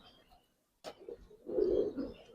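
A pigeon coos once, a low throaty burr close by, after a short sharp knock in an otherwise quiet loft.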